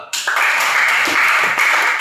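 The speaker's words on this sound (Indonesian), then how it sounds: "Tepuk tangan untuk kita semua dulu." A school class applauding together, producing a dense, loud wash of clapping that starts abruptly and carries on steadily for a couple of seconds.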